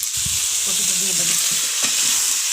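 Cauliflower with onion, tomato, turmeric and ginger fries in a pan, a continuous loud sizzle with a few soft stirring scrapes underneath, close and without voices.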